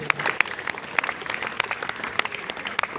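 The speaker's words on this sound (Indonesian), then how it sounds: "Tepuk tangan untuk pembina." Applause at a school ceremony for National Santri Day at a junior high school, steady crowd clapping with a few sharper individual claps standing out, moderately loud and continuous throughout.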